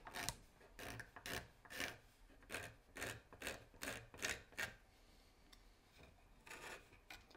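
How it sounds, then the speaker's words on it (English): A hand scraper working wood inletting on a custom Mauser gunstock, giving a quick series of short, close rasping strokes in uneven bursts with brief pauses between them. "On a Mauser, it leaves these scallops behind that I'm scraping right now."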